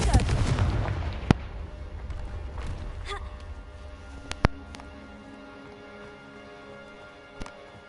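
Confringo blasting-spell explosions in Hogwarts Legacy: a heavy rumbling blast at the start fades out, followed by a few sharp, isolated cracks and impacts at intervals, with a voice briefly present.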